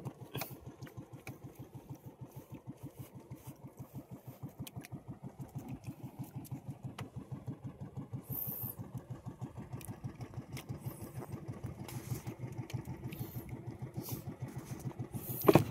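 Fishing boat engine idling and chugging steadily in a rapid, even pulse, close and continuous throughout, with occasional clanks and splashes on top.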